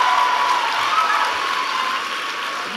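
A large audience cheers and applauds for Hillary Clinton, a loud sustained wash of clapping and shouting that fills the space evenly and fades only slightly.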